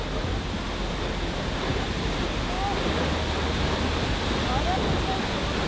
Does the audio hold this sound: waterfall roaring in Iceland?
yes